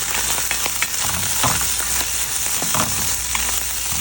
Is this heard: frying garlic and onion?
yes